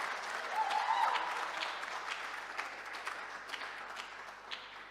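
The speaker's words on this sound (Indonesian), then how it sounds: "ini tepuk tangan dulu untuk pemusik kita ini" Applause from a church youth revival service congregation for the musicians, a steady wash of clapping at moderate distance that swells briefly early on and then tapers gradually, with a brief voice near the start.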